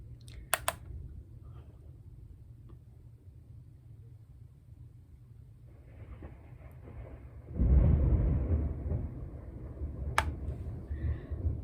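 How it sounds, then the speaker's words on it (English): Low rumbling builds from a distant grumble into a loud, deep roll of thunder in the second half, with a couple of sharp clicks scattered throughout. "Maybe I am scared of the thunder, because this is very loud tonight."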